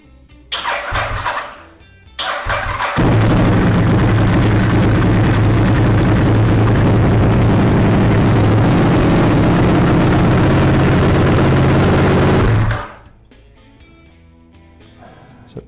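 Honda RC51 motorcycle engine cranks briefly, then fires and settles into a loud, steady idle for about ten seconds before cutting off, with quiet workshop ambience around it.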